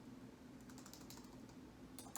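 Soft, quick clicking of fingers with long nails typing on a computer keyboard, faint and close, in irregular bursts with no talking.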